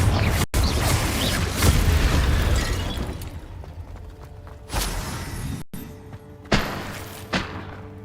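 Repeated magical spell blasts from the Hogwarts Legacy game, several sharp bursts and thuds spread across the clip, loud and close, with dense game effects and rumbling in between.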